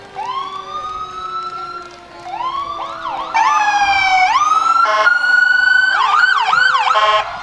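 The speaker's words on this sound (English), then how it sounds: "a lot of sirens" Several Burnsville Fire Department emergency vehicle sirens wail and yelp together during a fire muster parade, loud and close, rising and overlapping with shifting pitch sweeps and a steady low horn tone underneath.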